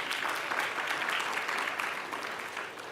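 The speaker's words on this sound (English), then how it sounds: "Give them a round of applause." A round of applause from the audience at a 50th anniversary celebration gala for sponsors, dense continuous clapping that tapers slightly toward the end.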